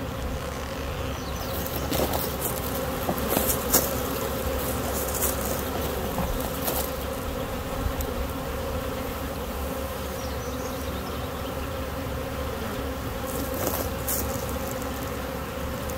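A honeybee swarm hums inside a bucket, a dense, steady buzz held at close range for the full length, with occasional louder bees passing near and no talking.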